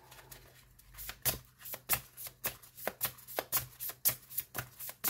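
Tarot cards shuffled by hand for a reading, a quick run of crisp riffling bursts repeating in a steady rhythm, close and clear with no talking.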